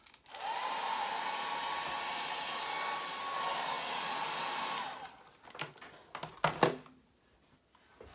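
A hair dryer blows steadily for about five seconds to dry a wet watercolor painting, a loud continuous whoosh with a faint hum, then cuts off and a few knocks and handling sounds follow.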